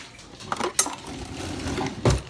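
A spoon clatters against a metal pot while making macaroni and cheese, with a few sharp clinks and scrapes spaced out and a louder knock near the end.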